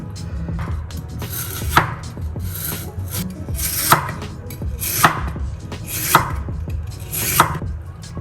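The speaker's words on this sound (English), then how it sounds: "Next, we are going to slice lotus root." Knife slicing fresh lotus root thinly on a board, a steady run of scraping cuts with about five sharper thunks as the blade meets the board, close and clear with no talking.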